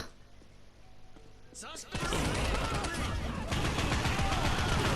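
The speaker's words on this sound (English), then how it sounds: "Oh, that beautiful ass shotgun." Heavy shotgun blasts from the video game Postal Redux, a dense run of loud close firing with clatter after a quieter lead-in, with no talk over it.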